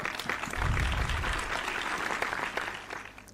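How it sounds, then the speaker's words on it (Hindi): Audience applause welcoming a speaker at the inaugural session of an educational conference in Aurangabad: a short, dense burst of clapping from a crowd in a hall, swelling quickly and then tapering off. "डॉक्टर एहसन पठान साहब के इस्तकबाल में तालियों से उनका इस्तकबाल करें"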